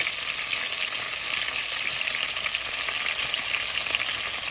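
Ginger sautés with garlic in a hot oiled pan for chicken tinola, giving a steady, even sizzle with faint stirring clicks. It is close, and no one talks over it.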